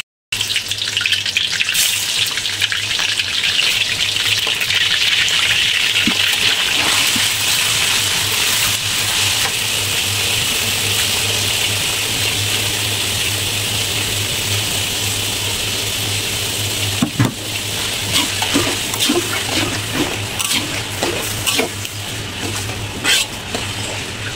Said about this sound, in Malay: Kita goreng dulu ayam ni.